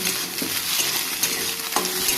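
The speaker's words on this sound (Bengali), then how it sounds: "ডিম ভাজা হয়ে গেছে ডিমটাকে বেশি শক্ত করবো না" An egg fries in hot oil in a pan, giving a close, steady sizzle broken by a few brief stirring scrapes.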